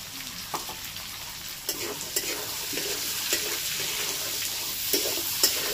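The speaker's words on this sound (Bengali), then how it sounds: "আর পেঁয়াজের সাথে একসাথে গাজরটা ভেজে নেবো" Chopped onion and carrot fry in a pan for fried rice, a quiet steady sizzle with occasional clicks and stirring taps from a utensil against the pan.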